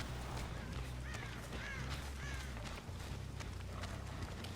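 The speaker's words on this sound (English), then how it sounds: "I heard the bird fly." A crow in a video game caws several times as it flies off, the rasping calls heard over a busy, continuous game soundscape of footsteps and background noise.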